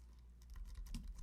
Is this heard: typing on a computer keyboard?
yes